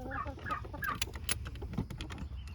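A broody hen sitting on eggs in a backyard coop gives soft, low clucks and a few sharper squawks in quick irregular succession, close by, with no talk over them.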